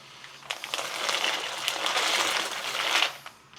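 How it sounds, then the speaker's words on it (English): A short rushing splash and sizzle as pasta drops into boiling water, swelling for a few seconds and then fading out. "Okay, water is boiling. Let's go ahead and get ready to throw in our pasta."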